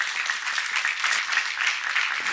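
A church congregation at a seminar applauds together, a brief, dense and even burst of clapping filling the room with no speech on top.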